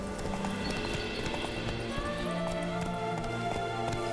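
Roach the horse galloping in The Witcher 3, a rapid, even clip-clop of hooves drumming continuously for several seconds at moderate loudness, with game ambience underneath.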